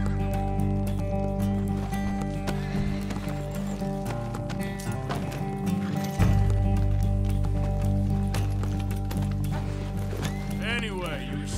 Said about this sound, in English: Why are you getting off the horse?